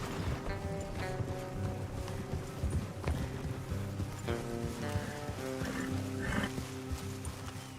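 Horse hooves clop steadily at a walk in the video game Red Dead Redemption 2, amid layered ambient game sound, with occasional whinny-like tones and a dense, busy background.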